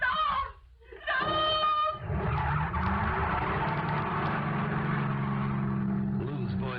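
A car engine in a radio drama roars up loudly and holds a steady, rising snarl with a tire-squeal edge, following brief dramatic voices at the start.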